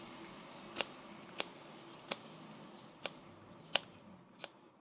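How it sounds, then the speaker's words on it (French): Resin-encrusted wood being cut by hand, heard as six sharp, evenly spaced snips against a low steady background, each crisp and close. "Donc là, je coupe le bois."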